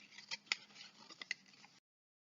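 Scissors snipping through loops of glued paper, with a few close, crisp cuts and rustling paper over a couple of seconds, then silence.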